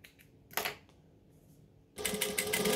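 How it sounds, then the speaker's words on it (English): A sewing machine chain stitching fabric for a sewing tutorial, heard as a short burst, then a pause, then a loud steady run of rapid stitching at close range in the final second. "chain stitch the other one straight away"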